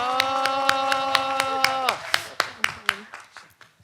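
Audience applause at the 2022 Yeonggwang County youth participation festival policy presentation: steady, rhythmic claps over a sustained musical chord, with the claps continuing and fading after the chord stops.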